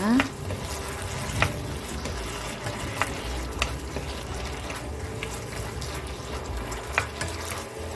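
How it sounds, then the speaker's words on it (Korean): Garlic scapes stir-frying in a pan with corn syrup and water, giving a steady sizzle with scattered clicks from a utensil scraping and stirring throughout, close up. "생수 한 수저 정도 넣어서 살짝 볶아주겠습니다"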